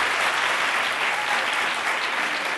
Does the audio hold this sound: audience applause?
yes